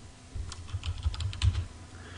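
Fingers tap out a short burst of keystrokes on a computer keyboard, a quick irregular run of soft clicks lasting under two seconds, close and alone.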